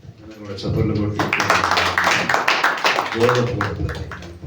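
A church congregation claps along to a worship song, with sharp rhythmic hand claps beating steadily over loud group singing for most of the stretch.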